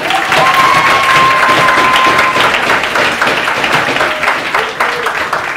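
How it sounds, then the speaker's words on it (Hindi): A class of CA Inter students applauds themselves, a loud, full burst of many hands clapping for several seconds with a faint voice briefly underneath. "तालियां बजा दो अपने लिए"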